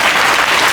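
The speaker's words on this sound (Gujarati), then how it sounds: "તાળીઓ પાડો બધા એક સાથે." A crowd of audience members claps loudly and continuously at a school prize distribution ceremony, dense close applause with no gaps.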